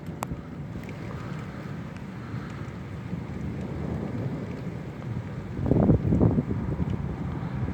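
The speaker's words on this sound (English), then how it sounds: "the thunder sounds weird" Rumbling thunder from a storm during a tornado warning at night, a continuous low roll that swells into a louder, nearer peal near the end over steady rain and wind noise.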